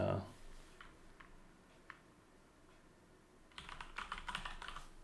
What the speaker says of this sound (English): Let me type in...